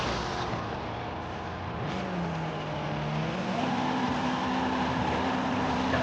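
A car engine hums at moderate volume, its rising whine climbing in pitch, briefly settling, then stepping up again in a second sustained tone like a gear change, with road noise underneath.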